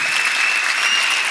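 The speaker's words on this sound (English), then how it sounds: "That deserves a clap." A conference audience at Brilliant Minds 2019 claps in a steady, dense burst of applause that stays even and fairly loud throughout, with a thin whistle-like tone running through it.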